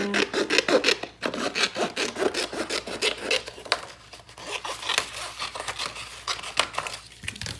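Paper being cut with a rectangle die in a die cut machine, a continuous close crinkling and scraping rub with short rhythmic strokes.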